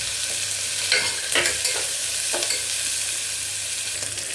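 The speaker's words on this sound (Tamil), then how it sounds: "கொஞ்சம் ஹை ஃப்ளேம்லேயே வச்சுருங்க. வெங்காயம் வதங்கட்டும்." Onion sautéing in a pan over a high flame, a constant close hiss of frying with a few quick stirring scrapes near the start, no one speaking.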